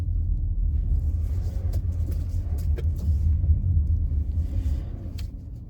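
Car engine rumbling steadily and fairly loud from inside while pulling into a cinema car park, with faint clicks on top and no talking.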